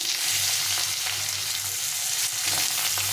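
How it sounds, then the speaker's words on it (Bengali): Potatoes frying in a pan with cumin seeds, giving a loud, steady, close-up sizzle that holds evenly throughout with no pauses and no voices. "এখন আমি আলুটা দিয়ে দেবো আলুটা একটু ভিজে নিতে হবে সবার আগে আলুটা দিয়ে দেবো"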